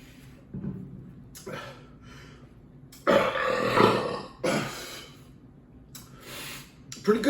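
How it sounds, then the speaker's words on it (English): A burp after drinking Budweiser lager, a loud throaty belch rising to a peak near the middle of the clip. It sits between softer breathing and shuffling sounds. "Pretty good burp."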